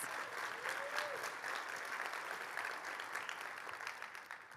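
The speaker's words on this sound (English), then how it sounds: "Let's give them all a big round of applause" A conference audience at a mainstage session breaks into applause, a soft, distant wash of many hands clapping at once that holds steady before tapering at the end.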